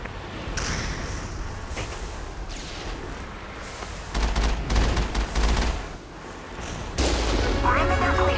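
Rapid gunfire and heavy weapon blasts in a firefight from the Mass Effect video game, with the Mako vehicle fighting Geth, bursts coming in dense loud waves with a sharp surge near the end.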